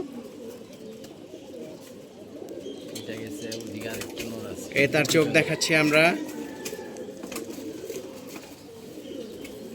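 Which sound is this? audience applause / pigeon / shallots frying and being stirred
pigeon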